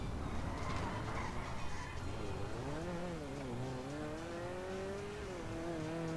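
A car engine in the video game GTA V revs and accelerates, its pitch climbing and wavering over a steady background rumble, fairly loud and with no talk over it.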